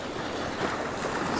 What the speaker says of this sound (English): some nice waves crashing there.